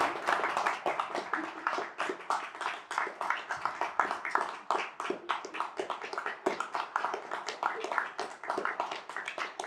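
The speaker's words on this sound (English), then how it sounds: "And a round of applause." Applause from guests at a wedding ceremony just after the couple is pronounced married, a lively, uneven patter of many hands clapping that continues steadily at moderate volume with no speech over it.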